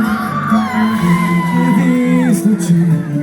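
A concert crowd at a children's day show in Mioveni, Romania, whoops, yells and cheers loudly and close by for about three seconds, with sustained shouting voices rising over the noise.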